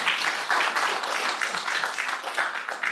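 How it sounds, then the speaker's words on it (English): Audience applause at a town board meeting: a steady, dense patter of many hands clapping at moderate volume for about three seconds, with no talking over it. "You can clap for that."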